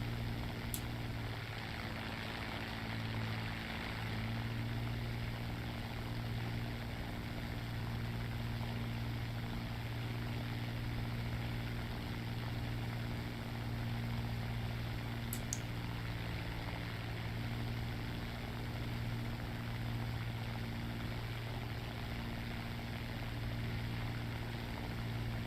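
A propeller aircraft engine from a British tech-tree plane in a video game drones steadily and continuously while climbing, a constant mid-level hum without a break.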